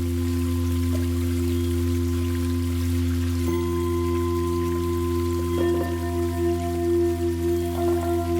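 Trickling, dripping water layered with sustained electronic tones and a shimmering granular effect made in Ableton Live, steady and continuous with occasional shifts in pitch.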